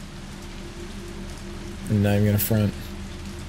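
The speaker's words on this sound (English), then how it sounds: "That's some nice rain." Steady rain falls throughout a scene in the Resident Evil 3 Remake video game, a dense hiss under a brief burst of loud speech near the middle.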